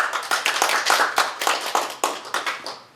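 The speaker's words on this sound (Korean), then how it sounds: "다시 한번 큰 박수 부탁드리겠습니다." Applause from a seated audience at a marketing academy forum, a loose group of hands clapping close by in uneven bursts of distinct claps that taper off toward the end.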